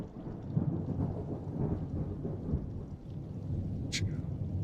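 A thunderstorm with rain makes a steady rumbling wash of heavy rainfall and low thunder throughout, with a brief sharp crackle near the end and no voices.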